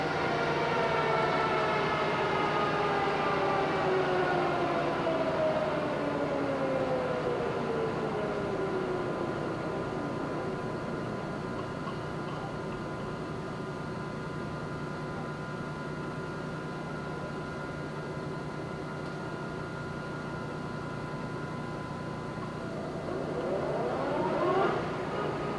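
Poreba TPK90Ax2M engine lathe with 36-inch swing running at its top speed of 315 RPM, a steady loud mechanical drone with whining tones that slide downward early on, continuous throughout and rising slightly at the end.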